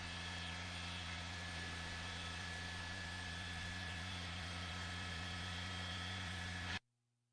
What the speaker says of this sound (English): there is a helicopter besides us, a law enforcement helicopter above